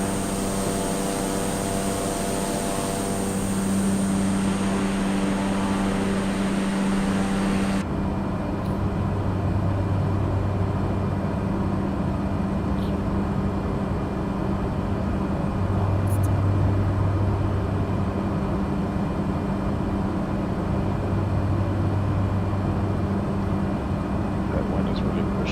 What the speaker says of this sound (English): It's fast, but the engine sounds slow.